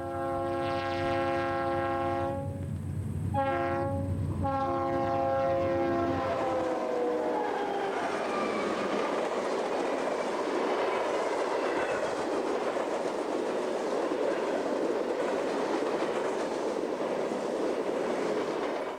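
Westbound Union Pacific freight train hauling empty chemical tank cars and covered hoppers sounds several loud horn blasts, short and long, then thunders past nearby in a continuous rolling roar of wheels and cars.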